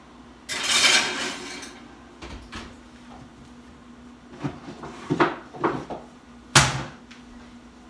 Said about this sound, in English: So I'm going to go ahead and put this pan in the oven.